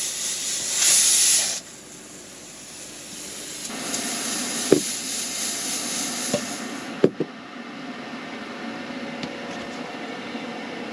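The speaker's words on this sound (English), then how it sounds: "until it builds up pressure. And once it does that, once it lets its first set of steam" A loud burst of hissing steam from a pressure cooker at a riverside campsite for about a second and a half, then quieter background with a few sharp clicks and knocks.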